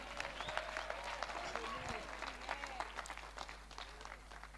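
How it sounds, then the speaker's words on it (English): Audience applause at a youth conference session in a Johannesburg hotel, a quiet, dense patter of clapping from a crowd heard at a distance, with faint voices and a low hum underneath. "Let's give God a round of applause."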